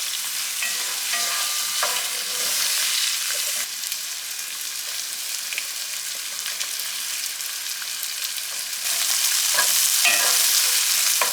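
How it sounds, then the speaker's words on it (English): Garlic, onions and sun-dried tomatoes sizzle steadily in fragrant oil in a pan, a close, continuous frying hiss with occasional stirring scrapes and no talking. "Saute your garlic and onions in this fragrant oil, and we can't forget the sun-dried tomatoes."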